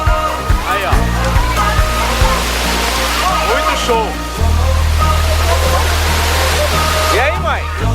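A river waterfall at a wild campsite in the woods roars in a loud, steady, close rush of falling water, with people talking over it.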